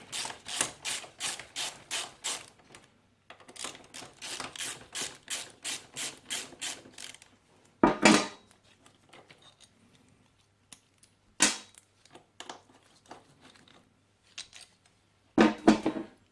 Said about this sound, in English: remove this pillion foot peg, the right hand pillion foot peg, to give us a bit more room to work